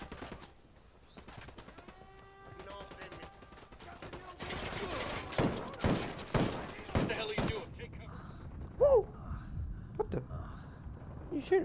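Rapid pistol fire from a D50 handgun in the video game Ghost Recon, with several sharp shots clustered in the middle, plus bird calls, ambient game sound and occasional voices.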